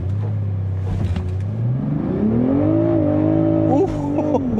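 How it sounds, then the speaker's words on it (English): A 2023 BMW Z4 M40i roadster launches from standstill in sport traction mode, its engine rising in a loud, sustained roar through the revs with a brief shift-like dip near the end. "you just floor the brake and the accelerator until it says launch"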